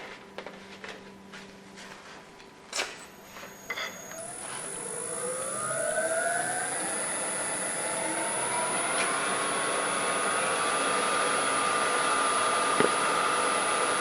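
A wood lathe whirls a grinder blank up to high speed, a whining motor tone climbing steadily in pitch over several seconds, then settling into a loud, sustained high whine, preceded by a few sharp knocks and clicks.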